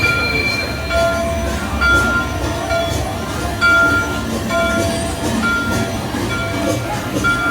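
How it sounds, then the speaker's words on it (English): A theme park train at Hollywood Studios rumbles steadily along with periodic high metallic squeals from the wheels, a continuous ride sound close by. "We're about to board the train."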